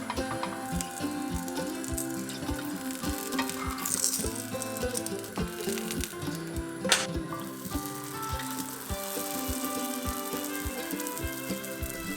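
Turkish savory doughnuts fry in a small pan of hot oil with a steady, crackling sizzle, joined by occasional light clinks of a utensil against the pan.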